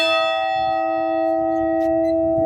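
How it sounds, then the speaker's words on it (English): A Liberty Bell replica struck once at close range, giving a loud, sustained metallic ring with a steady humming tone that hangs on without fading across the whole clip. "We have a Liberty Bell replica."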